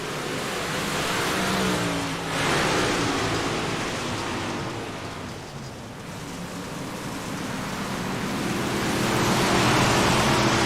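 Dirt track race cars roar back up to speed on the green-flag restart at Williams Grove, a loud, dense, continuous engine wash that swells and dips slightly throughout.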